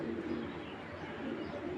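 Racing pigeons coo in a low, steady murmur, a dense and continuous flock sound with no pauses over a short stretch.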